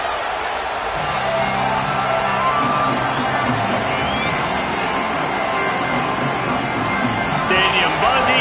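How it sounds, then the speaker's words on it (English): A stadium crowd cheers steadily at a Canadian Football League game between the Edmonton Elks and Saskatchewan Roughriders, sounding dense and continuous, with an announcer talking over the roar. "The crowd has packed this place out, and you can feel the energy reverberating."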